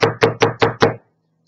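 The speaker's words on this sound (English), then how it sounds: "bangs on the cockpit door" Five loud, evenly spaced bangs on an airliner's cockpit door, struck by a man in the central aisle of a passenger plane, quick and forceful, then silence.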